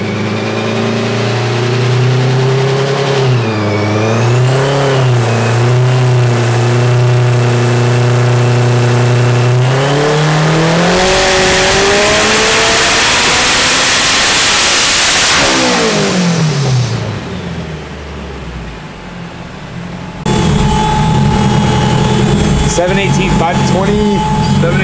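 Turbocharged K24 Honda Civic making around 900 hp on a dyno, its engine loading, then revving hard and climbing in pitch to a loud screaming peak before dropping off, with a second rev after a pause and voices partly under it.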